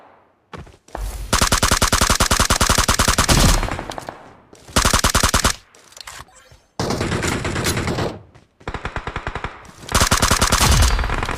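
Video game gunfire, long loud bursts of rapid automatic fire in several strings broken by brief gaps, harsh and close, with no talk.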